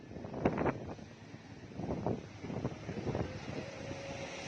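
Gusty wind rumbles and buffets the microphone in uneven bursts along Rizal Boulevard, rising and falling over a few seconds.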